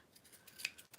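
Sewing scissors trim a fabric zipper tab on a handmade tote bag, giving a few quick, close, crisp snips with short gaps between them.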